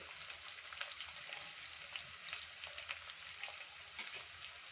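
Finely chopped onion frying in a pan gives a steady, quiet sizzle with faint crackles and occasional light stirring, close and without talk.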